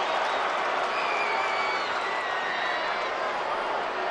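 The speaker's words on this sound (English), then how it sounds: "And the crowd reacts as David Beckham" Stadium crowd at a Real Madrid versus DC United friendly football match, a dense, steady roar of cheering and applause on a synthetic surface, loud and continuous throughout with no talk on top.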